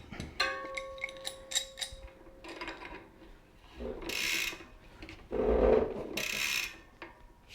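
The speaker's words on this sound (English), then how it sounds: "Take your cassette lock ring tool, get everything snugged up." A cassette lock ring tool grinds and ratchets as it tightens a Shimano Deore M6100 12-speed bicycle cassette, with intermittent metallic clicks, rubbing and two louder scraping bursts, close and fairly quiet.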